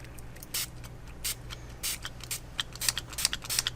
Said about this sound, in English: I need a new spray bottle.